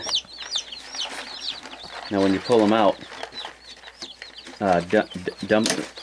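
Newly arrived chickens being taken out of their box cluck and chirp close by, with a person talking over the fowl calls.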